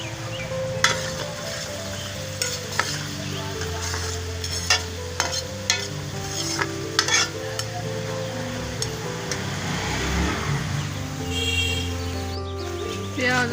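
Garlic ginger paste frying with onions in a pan, a continuous sizzle punctuated by repeated sharp scrapes and taps of a spoon stirring, close and fairly loud, with occasional faint speech.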